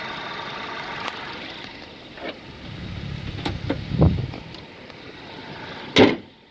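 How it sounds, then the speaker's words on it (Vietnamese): A 2007 Toyota Innova G sits idling with its hood open, giving a low, smooth, fairly quiet engine hum broken by a few sharp clicks and ticks, with one louder knock near the end. "Máy nổ êm như hít hít luôn."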